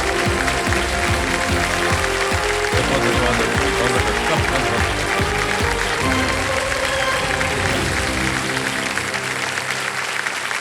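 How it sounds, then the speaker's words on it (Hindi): Studio audience applause on a televised quiz show set, a loud sustained wash of clapping with music and a brief spoken thank-you layered in, thinning out toward the end. "एक बार फिर जोरदार तालियां अभिषेक जी को।"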